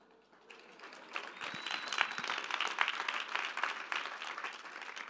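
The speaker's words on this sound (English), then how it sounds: "I hope you're applauding for the owl." Audience applause at a talk swells from near silence into a dense patter of many hands, moderately loud and sustained, with a faint whistle-like tone briefly above it.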